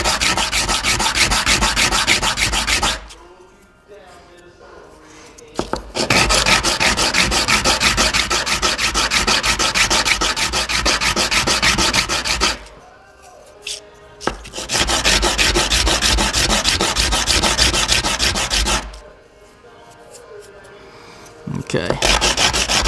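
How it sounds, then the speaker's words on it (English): Coarse 60 grit sandpaper rubs rapidly across the tip of a wooden timber game call insert in three long, loud, steady bursts of scratchy back-and-forth strokes separated by short pauses. "take some 60 grit sandpaper and just take the tip of that call or insert"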